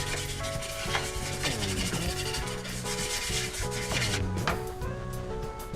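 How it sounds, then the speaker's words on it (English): Steady brisk scrubbing of a Tamiya 1/16 RC Sherman tank model with a denture brush, close up and continuous for several seconds, with rhythmic back-and-forth strokes and no talking. "just another scrub."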